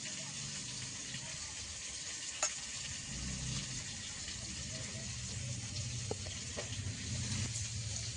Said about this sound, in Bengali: কই মাছগুলো ভাজা চলছে এদিকে উনানের উপরে